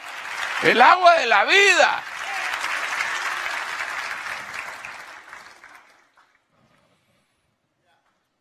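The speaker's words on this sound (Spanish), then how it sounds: "Denle un aplauso bien fuerte al rey." A church congregation bursts into applause after a sung phrase from a preacher, the clapping swelling and holding for a few seconds before fading out into silence.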